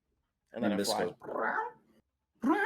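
A person imitates cat noises with two drawn-out, meow-like vocal calls in quick succession, then starts a third, loud and close.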